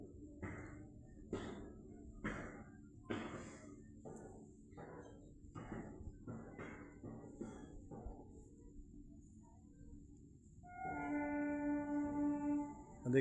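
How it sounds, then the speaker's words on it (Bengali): A train runs along the main line into Howrah, heard from a rooftop in a built-up town: a faint, distant run of rhythmic wheel clacks, then a louder sustained tonal blast near the end. "দেখুন ট্রেনের আওয়াজ।"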